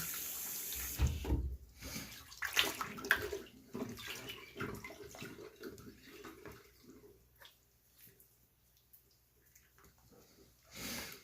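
Water pours from a tap and splashes as suds are rinsed off a foster pig in a bath, with a loud burst near the start, then quieter trickling and sloshing, plus occasional snorts and small movements.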